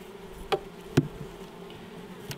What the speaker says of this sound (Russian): Пчелки там вон работают на ней.